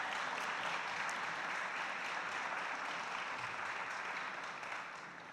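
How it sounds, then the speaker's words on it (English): Applause from the audience at a Framingham mayoral debate, a broad even patter of many hands that holds steady and then tapers off near the end. "clap for that"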